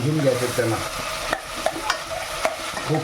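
Mushrooms frying in oil for a paneer mushroom masala, a loud close sizzle with repeated scraping strokes of a spatula stirring the pan, no voices.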